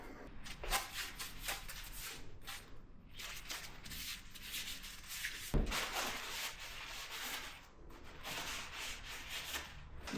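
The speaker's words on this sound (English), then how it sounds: "I might use a little bit of sandpaper just to take a little bit of rust off" Sandpaper rubbing surface rust off the handlebar of a Honda CB125R motorcycle, a steady close scratchy scrubbing in repeated strokes that runs throughout with no talking.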